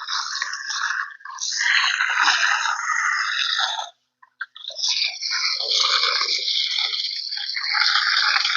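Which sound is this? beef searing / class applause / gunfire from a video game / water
water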